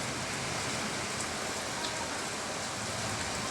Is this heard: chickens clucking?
no